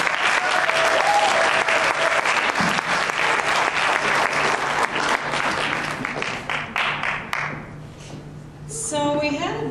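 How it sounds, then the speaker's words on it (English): An audience bursts into loud, sustained applause at a competition results evening, the dense clapping fading toward the end as voices and a short tone come through. "Give them all a round of applause."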